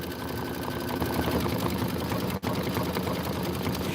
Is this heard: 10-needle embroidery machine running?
yes